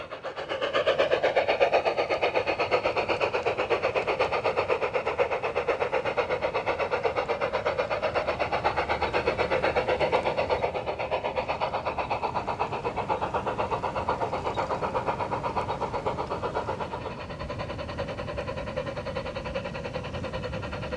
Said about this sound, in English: The train is passing by the Providence team track here